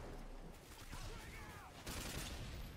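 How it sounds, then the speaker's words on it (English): Rapid gunfire rattles in a first-person shooter match, a steady dense burst of shots running through the whole stretch at moderate loudness, with faint game noise underneath and no clear voice over it. "Firing just for the sake of firing."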